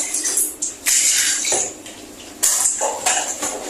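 Warm water being stirred and sloshed by hand in a basin for washing a wig, with uneven splashes and swirling bursts that rise and fall close up.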